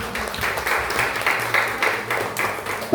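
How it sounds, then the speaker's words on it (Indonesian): An audience at a primary school graduation and farewell ceremony applauds students receiving awards, with sustained clapping in uneven waves and a few louder bursts. "Mari kita berikan tepuk tangan untuk seluruh siswa yang menerima apresiasi hari ini."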